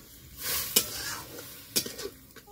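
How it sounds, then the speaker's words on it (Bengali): Egg tarka curry with tomato, ginger and garlic is stirred in a pan: a spoon scrapes and clinks against the metal in a couple of quick strokes over a low, steady sizzle, close and fairly loud. "তো তারপর আবার নাড়তে থাকলাম"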